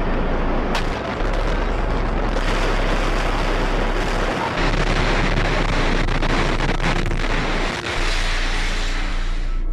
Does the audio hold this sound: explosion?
yes